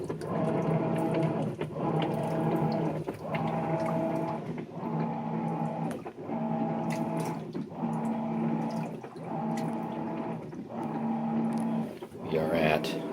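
A Whirlpool Cabrio WTW7000 washing machine tub shifts and churns mid-cycle in steady repeating surges about every second and a half, with a humming motor tone and watery sloshing, close and moderately loud.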